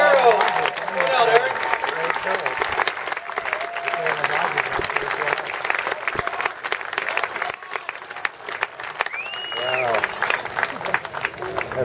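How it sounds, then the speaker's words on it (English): Crowd applauding and cheering at a baseball national championship celebration for a college team at a stadium, steady dense clapping with whoops and shouts throughout, voices mixed into the noise. "I'd like to give a round of applause for Mr. Jeff Morad."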